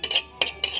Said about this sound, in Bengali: কালো জিরেটা একটু কড়াতে নেড়ে নেব